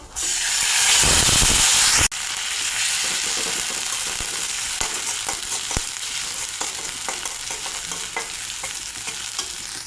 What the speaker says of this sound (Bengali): এবার বেটে রাখা মশলাটা দিয়ে দেব